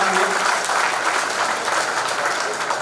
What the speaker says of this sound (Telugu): అందరూ కూడా ఇంకొకసారి చప్పట్లతోటి వారిని సంతోషపెట్టవలసిందిగా